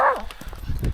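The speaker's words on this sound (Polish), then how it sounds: "Leo, nie szczekaj." Dog barking outdoors on an autumn walk in English woodland near a reservoir, a single loud close bark at the start followed by rustling and a person's voice.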